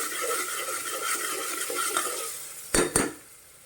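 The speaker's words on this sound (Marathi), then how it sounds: "याच्यात आपण एक टोमॅटो बारीक चिरलेला घातलेला आहे तर तो पण आता आपण चांगला परतून घेऊया" Onion and finely chopped tomato stir-fried in a pan, sizzling steadily while a spoon stirs through it, closing with two sharp metallic clanks of the utensil against the pan, close and without speech.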